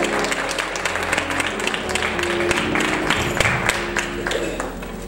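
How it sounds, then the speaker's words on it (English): A conference audience gives a sustained round of applause for a pastor at an annual leadership gathering. The clapping is dense and continuous, loud and close, with a faint voice underneath. "let's say amen and give a round of applause for Pastor C."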